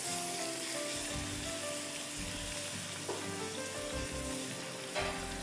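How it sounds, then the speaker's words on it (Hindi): Chicken pieces frying in hot oil with chillies give a steady, loud, close sizzle that runs throughout, with a few brief stirring clatters and no talking. "तेल गरम हो गया है, मिर्चें थोड़ी सी कराई हैं, तो आपने इसमें ये पूरी चिकन उठा के डाल देनी है"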